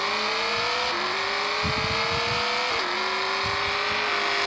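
A BMW F82 launches off in the Car Parking Multiplayer game, its engine whine climbing in pitch through two gear shifts, loud and synthetic, with brief rumbling bursts underneath.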